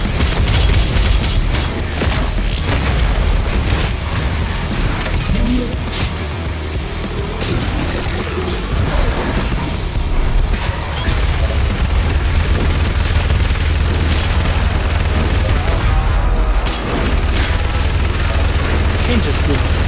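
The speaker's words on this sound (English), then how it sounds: "Chain gun is just so much fun for ripping everything in the room" Chain gun firing in the video game Doom Eternal, a dense, relentless rattle of rapid shots mixed with heavy booms and explosions, loud and continuous throughout, with someone talking over it.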